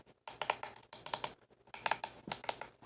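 Hat switch and buttons on a PXN-2119 II HOTAS flight joystick clicking, in short bursts of crisp plastic clicks repeated several times, close and alone.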